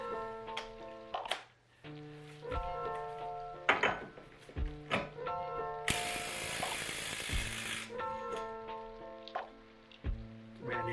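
A ratchet tightens a brand-new nut on a car wheel bearing, giving rapid close metallic clicking in repeated bursts, with a brief louder rush of noise midway and no talk.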